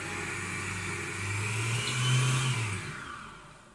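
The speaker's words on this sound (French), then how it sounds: "on va laisser tourner le robot tout seul" A stand mixer kitchen robot runs alone, beating crepe batter and stepping up from speed 1 toward 3. Its steady motor hum rises slightly in the middle of the clip, then settles again.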